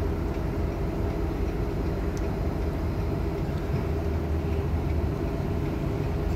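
A steady, heavy rumble of a northbound CSX autorack freight train hauled by two engines rolling past in Kingston, New York, continuous and fairly loud with no voices.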